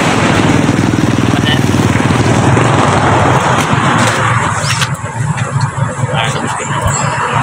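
A newly delivered motorcycle runs steadily nearby with a continuous engine drone and idle rumble, loud throughout and dipping slightly near the end, while voices talk faintly in the background.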